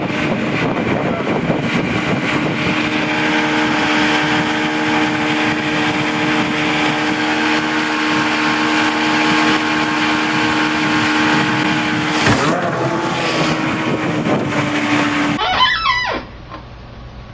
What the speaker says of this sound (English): Did you hear the sound of the boat motor change?